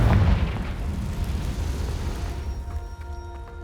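A Confringo blasting spell goes off in the video game Hogwarts Legacy, a loud booming explosion that hits hard at the start and then rumbles and fades into a lingering low roar.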